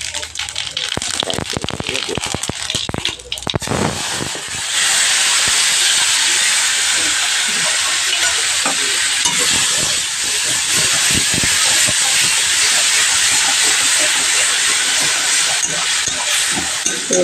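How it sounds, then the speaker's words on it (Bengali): Cumin seeds dropped into smoking-hot oil, a loud steady sizzle and hiss that rises after a few seconds of clatter and lasts to the end. "এই যে জিরে ফোড়ন দিয়ে দিচ্ছি"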